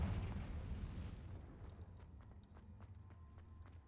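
Spell explosions from the Confringo fire curse in the video game Hogwarts Legacy, a heavy booming blast at the start that rumbles on in a low roar, with sharp crackling bursts scattered after it.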